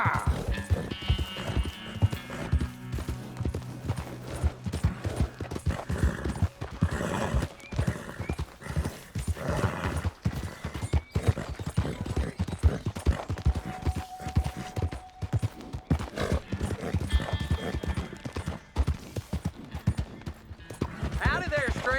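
Horse hooves clip-clop at a quick gallop in Red Dead Redemption 2, a dense, loud run of strikes with occasional whinnies, and voices talking over the riding throughout.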